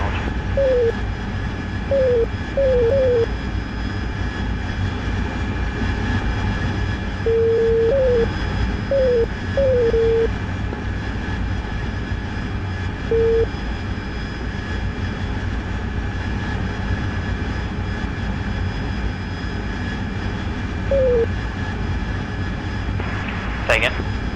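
A steady aircraft engine drone holds through a lift-off in a combat flight game, broad and constant under intermittent radio chatter and short beeping interface tones.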